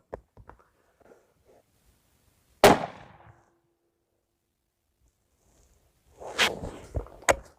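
300 Win Mag rifle firing at a range, one sharp loud report with a short decaying tail, then a later burst of clattering handling noise and a final crisp crack, with faint ticks in between.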